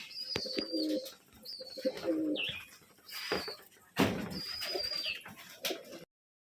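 Pigeons in a home loft at a Rajshahi pigeon farm, with repeated soft cooing phrases and short chirps close by, separated by brief pauses.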